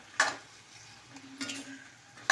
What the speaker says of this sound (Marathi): परतून झाल्यानंतर यामध्ये आता भेंडी घालायची जी आपण तेलामध्ये परतून घेतलेली आहे सर्व आता मिक्स करून घ्या